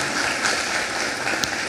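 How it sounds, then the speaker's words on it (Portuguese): Congregation in a church gives a round of applause, a dense steady patter of many hands clapping at a moderate level, continuous throughout with no voice over it. "uma salva de palmas então, minha gente, que maravilha"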